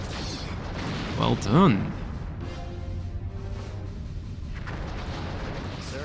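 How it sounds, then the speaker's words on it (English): Starship torpedoes fired in a Star Trek starship battle video game against Klingon Birds of Prey: a short burst of launch sound over a steady ambient rumble, with a brief spoken voice. "but I need to fire those torpedoes. Here we go."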